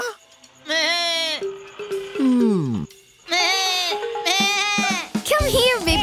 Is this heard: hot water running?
no